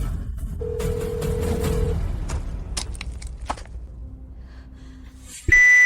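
A telephone ring tone sounds in two long electronic beeps against a quiet room, followed by an abrupt loud clatter at the end.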